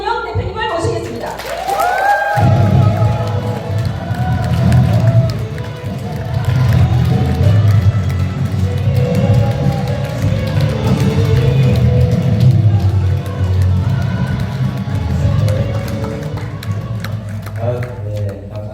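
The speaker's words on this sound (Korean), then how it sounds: "여러분 큰 박수로 환영해 주시기 바랍니다" A seminar audience in Gyeongju claps to welcome a company CEO to the stage, a broad wash of clapping and crowd noise lasting many seconds with a voice heard over it near the start.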